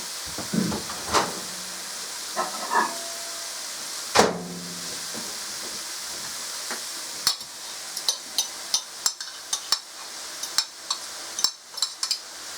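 Onion returns to a pan of cooking beetroot stalks and leaves, bringing a steady hiss and sizzle with a few stirring scrapes, then a run of sharp ticks and pops.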